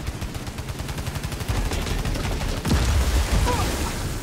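Rapid rattling bursts of turret gunfire in the video game Returnal, a fast even stutter of shots followed by a heavier impact and a short whooshing sweep.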